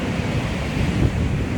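Ocean surf roars along a beach as waves break, a broad continuous wash mixed with buffeting wind noise on the microphone, loud and steady with no voices.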